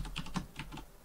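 A password is typed on a computer keyboard while setting up SSH access to a Raspberry Pi, a quick close run of several crisp key clicks.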